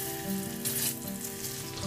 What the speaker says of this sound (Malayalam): ഇനി ഈ പഴം നമുക്ക് ഈ നെയ്യിൽ നല്ലോണം ഒന്ന് വഴറ്റിയെടുക്കാം